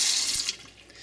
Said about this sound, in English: Even though it's 1/4-inch copper tubing coming in, it doesn't restrict the water flow,